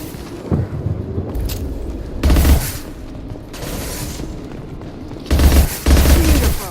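Gunfire from the video game Mass Effect 2 comes in several loud, heavy bursts and booming volleys, separated by short pauses filled with lower rumbling combat noise.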